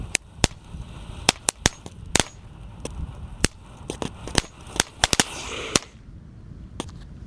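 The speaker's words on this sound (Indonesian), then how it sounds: "Selanjutnya kita nyalakan mercon tank." A tank firecracker set off in a hole in the ground, giving a rapid irregular string of sharp, loud cracks and pops over several seconds with a faint hiss between, then a few last scattered bangs.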